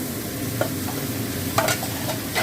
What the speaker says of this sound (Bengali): মাখানোর চালটা দিয়ে আমি ভেজে নেব